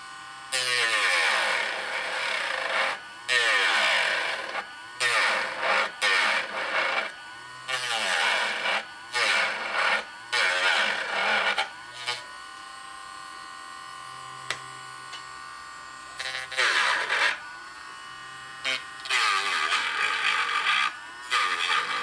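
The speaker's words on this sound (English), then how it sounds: "I'm going to get out my Dremel tool here, and we're just going to take this down real careful" Dremel rotary tool whining in repeated bursts as it grinds down a plastic scale model part, loud and close, the pitch dipping under load between short pauses.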